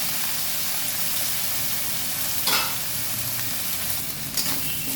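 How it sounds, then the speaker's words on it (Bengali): Prawns fry and sizzle steadily in hot oil in a pan for a fish curry with potato and pointed gourd, a continuous close crackling hiss with a brief stir or clatter partway through, no voices. "চিংড়ি মাছটা আমার ভাজা হয়ে গেছে"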